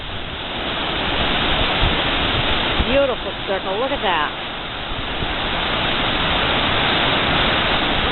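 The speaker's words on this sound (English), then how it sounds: "And you just hear the water, so calming, so nice." Rushing water roars steadily like a waterfall, a broad constant hiss, while a person briefly speaks over it midway.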